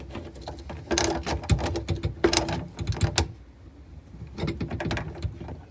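A basin wrench tightening a faucet nut under a sink, clicking and ratcheting in quick bursts of metallic turns, pausing briefly before another run of clicks.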